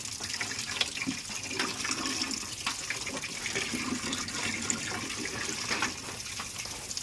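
Water is poured in a steady, continuous splashing stream close by, at an outdoor spot beside a lily-filled paddy field during trap fishing, with no talking.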